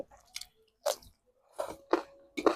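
Raw onion chewed up close during a rice and chicken mukbang, five or six distinct crunchy bites and chews spaced irregularly, with quiet pauses between them.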